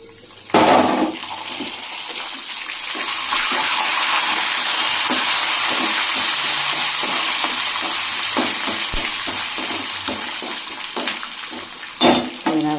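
Steady loud sizzling and crackling of medu vadai frying in hot oil, with occasional louder pops and stirring clatter.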